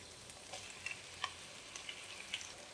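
Onions, cumin, ginger garlic paste and chopped tomatoes being stirred in a pan for pav bhaji: a quiet, steady sizzle with light spoon taps and scrapes scattered through it. No speech.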